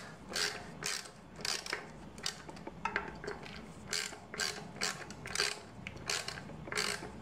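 Wrench ratcheting while bolts are tightened on a folding bike, a steady run of rhythmic clicking strokes, close and fairly quiet, repeating about once a second with no talk.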